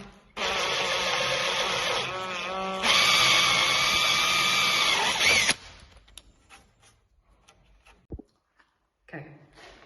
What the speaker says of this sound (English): I've just drilled out the 2 spaces needed for the latch